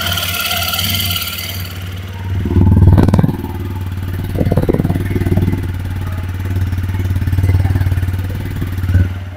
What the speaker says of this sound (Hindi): तो चलिए एग्जॉस्ट नोट्स सुनते हैं, पहले स्टार्ट करते हैं बाइक को।